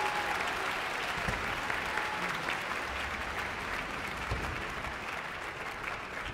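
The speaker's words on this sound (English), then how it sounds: "Let's give them another round of applause" Steady, dense applause from a large crowd at a high school music festival concert, sustained and even throughout with no voices rising above it.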